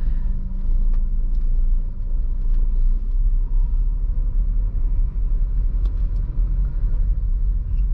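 A Honda Mobilio engine rumbles steadily from inside the cabin as it drives uphill with the air conditioning on, a deep continuous low drone with faint rattles.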